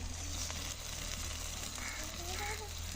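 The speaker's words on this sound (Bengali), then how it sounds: "আদা, সব কিছু আমি দিয়ে মিশিয়ে এনে ভেজে নিচ্ছি" Onions, chili, garlic and ginger frying in the oil left from frying eggs, a steady soft sizzle that runs throughout at low level.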